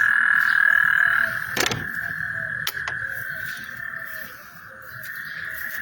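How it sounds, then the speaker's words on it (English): Frogs croaking in a backyard garden during heavy tropical rain in Corpus Christi, Texas, a steady chorus of calls over rainfall, punctuated by a couple of sharp nearby croaks, with no talking. "Oh my god, the frogs."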